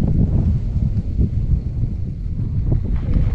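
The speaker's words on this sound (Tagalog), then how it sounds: "kita nyo, napakabilis ng hangin." Strong wind in Batangas City, Philippines buffets the microphone in a continuous low roar, gusting unevenly throughout with no voices.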